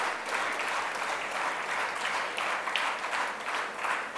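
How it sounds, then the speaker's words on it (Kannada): An audience welcomes a sundri instrument troupe with steady, sustained applause, a dense crowd of hands clapping evenly at moderate loudness for the whole stretch. "ಮತ್ತೊಮ್ಮೆ ಪೂರ್ತಿ ಈ ತಂಡವನ್ನು ನಾವು ಎಲ್ಲರೂ ಒಟ್ಟಾಗಿ ಚಪ್ಪಾಳೆಯೊಂದಿಗೆ ಸ್ವಾಗತಿಸೋಣ"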